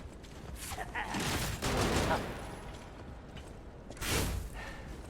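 Bursts of gunfire from a gun-wielding enemy in the video game Lies of P, loud clustered shots around the middle and again near the end over constant game noise.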